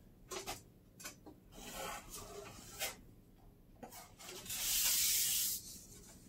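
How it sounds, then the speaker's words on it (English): A drywall knife pulls over fresh joint compound on paper tape in repeated, close rasping strokes, smoothing the compound out with a slow scraping rhythm, and ends in a longer hissing swipe. "just kind of use the knife to squeegee it out, kind of keeping those edges thin"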